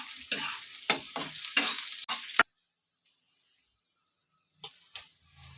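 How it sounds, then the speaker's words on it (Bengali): Spinach with garlic and green chillies stirred in a hot frying pan, several quick sizzling scrapes in a row, then near silence with two brief stirs at the end. "আমি এইভাবে আমি একটু নাড়িয়ে চাড়িয়ে নিচ্ছি"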